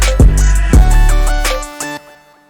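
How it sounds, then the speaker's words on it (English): A vocal riser effect sweeps upward over a thumping hyperpop beat, with chopped vocal textures building and then dropping away near the end. "It's the vocal riser for my kit, I believe."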